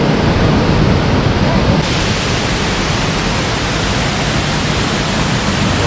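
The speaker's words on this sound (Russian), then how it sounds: "Еще здесь есть водопад." The Varone waterfall roars as a loud, steady wash of rushing water, a continuous close hiss and rumble that never lets up.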